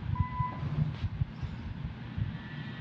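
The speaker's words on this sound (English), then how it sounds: "Leave a message after the beep and we'll call you back soon." An answering machine gives a single short electronic tone near the start, thin and steady, over a low rumbling background hum.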